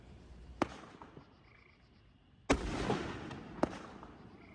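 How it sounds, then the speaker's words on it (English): Fourth of July fireworks go off in a parking lot, with a few sharp distant bangs and a longer crackling burst between them against quiet night ambience. "afterwards, they let off fireworks in their parking lot"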